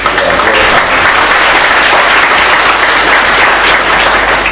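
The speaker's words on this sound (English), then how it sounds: "Round of applause" Loud, dense applause from a conference audience at the SEC-T 2012 security event fills the room as a continuous, even roar of many hands clapping.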